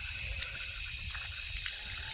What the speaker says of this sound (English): Let's give them a little bit of a wash here.